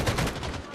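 Gunfire in the video game Modern Warfare, a loud, dense burst of shots packed into under a second and close up.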